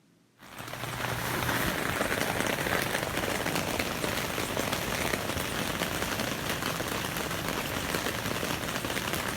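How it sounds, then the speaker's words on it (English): Light rain pattering steadily on a tent through the night, a dense, even patter that starts after a brief quiet moment and continues unbroken at close range. "light rain, all night long."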